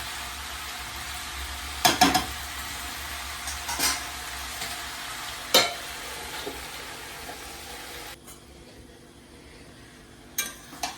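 Malabar spinach frying in a pan for a chorchori with pumpkin and fish roe, with a soft steady sizzle and a few sharp utensil knocks against the pan, close and without speech.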